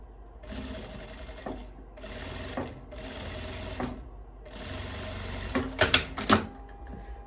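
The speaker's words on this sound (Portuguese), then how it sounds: "pesponto passado pro lado do avesso" A sewing machine topstitches a seam on a long dress with puffed sleeves and three ruffles, running in several close bursts separated by brief pauses, then a few sharp clicks and clatters near the end. No one talks.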